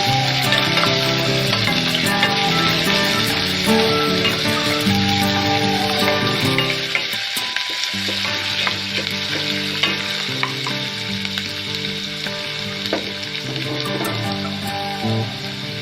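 Onions fry steadily in a pan for a street-style ghugni, a dense continuous sizzle with stirring close by, briefly dipping in the middle before resuming at full strength.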